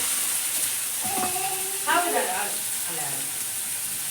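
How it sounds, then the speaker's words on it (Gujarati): Onions sizzle in hot oil for a corn dish, a steady bright frying hiss throughout with a voice talking briefly over it. "હાલો જો તેલ મૂકી દીધું નાખી દઈ ડુંગળી"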